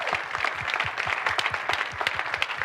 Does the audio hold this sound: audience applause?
yes